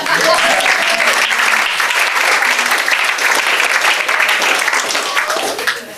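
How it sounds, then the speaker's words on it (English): Wedding guests give the ushers a round of applause during a reception speech: loud, dense, sustained clapping from a crowd that holds steady and then tapers off near the end. "round of applause for them."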